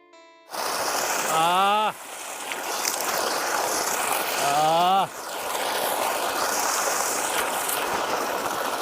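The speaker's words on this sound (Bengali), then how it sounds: "এটা হচ্ছে গিয়ে মোটর চালিত পাম্প এই পাম্পে থেকে জল তুলে এটা চাষের কাজে ব্যবহার করা হয়" A motor-driven pump lifts water for irrigation beside a tuberose field in Chapra. Its steady rushing drone runs continuously, and a voice speaks briefly twice over it.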